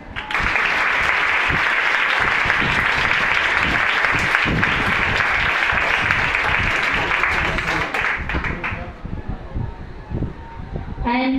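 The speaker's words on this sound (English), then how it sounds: "Clap, students." Students in a school hall break into loud, sustained applause for a girls' awareness programme guest, a dense crowd roar of clapping that holds for about eight seconds, then thins out and fades, with a voice briefly at the end.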